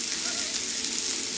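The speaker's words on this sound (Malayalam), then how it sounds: "അതിനു വേണ്ടിയാണ് ചിക്കൻ ഫ്രൈ" Chicken frying in a pan gives off a dense, steady sizzle, loud and close, filling the whole moment without break.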